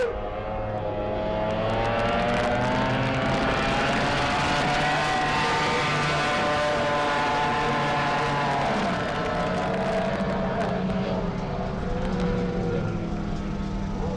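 Racing boats on Lake Tholocco roar steadily past in a powerboat race, a loud continuous engine drone with rising and falling pitch over a faint crowd murmur.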